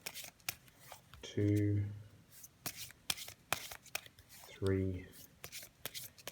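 Playing cards are shuffled and then dealt out one at a time, making sharp papery flicks and snaps at an uneven pace, close and fairly quiet. A voice counts aloud between the cards.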